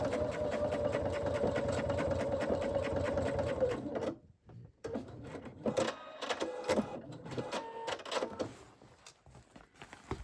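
A sewing machine stitching a travel pouch runs in a steady fast whir up close, breaks off briefly, then resumes in short uneven bursts while back stitching, with no talk.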